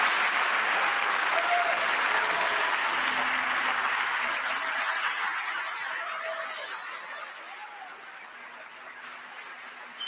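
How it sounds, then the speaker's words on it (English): A large audience claps steadily through a presidential address to the nation, the applause dense and sustained at first, then gradually thinning and fading toward the end. "He hasn't had that many people clap for him since his last shareholders meeting."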